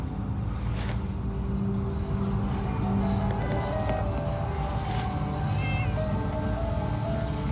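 A cat meows in Fallout 4 amid game ambience, with harbor and water sounds and a low droning background; the cries come close but sit partly beneath the busy mix.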